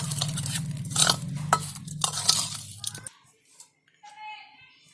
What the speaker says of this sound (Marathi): हे सारण असं सगळं आहे ना मिक्स करून घ्यायचं.